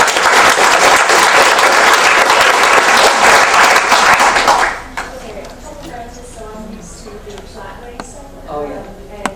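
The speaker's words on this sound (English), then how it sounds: "Round of applause for this guy" Loud audience applause for a speaker at a horse racing industry talk fills the first half, then stops abruptly, leaving a quieter room where people talk.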